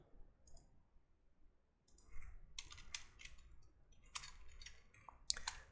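Fingers type on a computer keyboard, with quiet, irregular clusters of crisp key clicks that come in short bursts and then pause.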